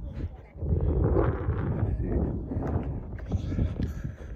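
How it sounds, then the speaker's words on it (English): Gusty wind buffets the microphone with a steady low rumble, rising and falling over a few seconds, close and fairly loud. "It's pretty windy."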